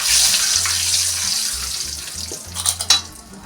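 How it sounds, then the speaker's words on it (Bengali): Bay leaves frying in hot oil alongside browned potato for chicken fried rice, a steady loud hiss and sizzle close up, with a few clinks of a utensil near the end. "এই দেখুন, তেজপাতা আবার দিলাম একটু"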